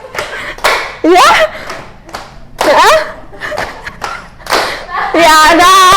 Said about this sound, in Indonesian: ada tepuk tangan